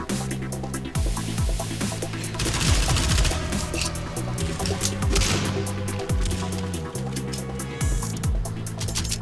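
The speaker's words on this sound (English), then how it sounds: "I don't know how authentic these weapon sounds really are" Weapon fire in the shooter game Battalion 1944, dense bursts of gunshots and rattling automatic fire over a steady droning background, with cracks and smashes overlapping throughout, loud and busy, no talking.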